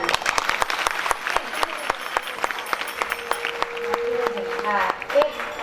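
A seated audience at a Ram Katha religious discourse bursts into enthusiastic applause, dense sharp clapping close by, with voices speaking and a low tone audible partway through.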